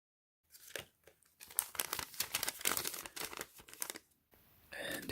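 Paper receipt for a tank top crinkled and rustled by hand while unboxing a Los Angeles Steve Garvey bobblehead and merch, a close, busy run of crackling crumples and tearing-like rustles with brief pauses.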